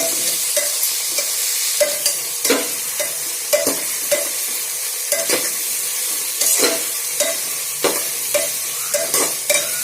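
Onions sizzle steadily in hot oil for a mutton curry, with regular scraping stir strokes of a spoon against the pan cutting through the constant frying hiss, close and fairly loud, no talking.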